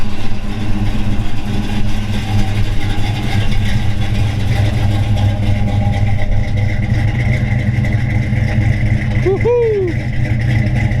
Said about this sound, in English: We'll get out and we'll let you hear it run.